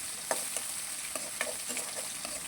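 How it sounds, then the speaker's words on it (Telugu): Green chillies, chopped onion and curry leaves fry in a pan of hot oil for poha, a steady close sizzle with a few sharp spatula scrapes as the mixture is stirred, no voices. "ఇవి పచ్చిమిరపకాయలు, ఆనియన్, కరివేపాకు ఇవన్నీ ఫ్రై చేసుకోవాలి."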